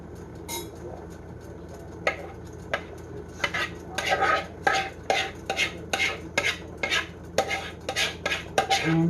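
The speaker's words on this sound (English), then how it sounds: "I'm going to put this sour cream and bouillon and flour mixture right in here." A spoon stirs a sour cream, bouillon and flour mixture into beef stroganoff meat in a cast iron pan, with repeated close scraping and clinking strokes against the metal that grow busier and more rhythmic.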